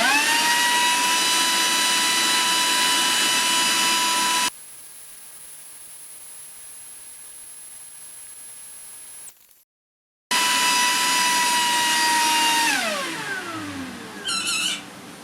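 A Makita 40V cordless leaf blower runs on cruise control with a loud, steady whining roar that holds, breaks off briefly, restarts, then winds down with a falling whine.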